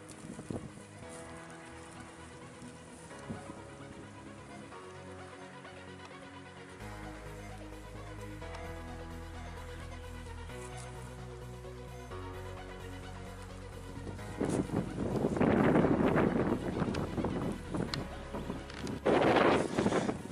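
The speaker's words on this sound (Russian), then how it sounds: "Итак, у нас поднялся небольшой ветерок." Light wind blows outdoors in an open field during metal detecting, a soft continuous rush that builds into strong gusty buffeting against the microphone near the end, under a faint background tone.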